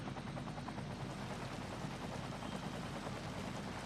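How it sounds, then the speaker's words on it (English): Helicopter rotor noise from firefighting helicopters in the city-building game Cities Skylines, a steady, dense whir holding at an even level throughout with no talk over it. "So now the helicopters can return back to their depot."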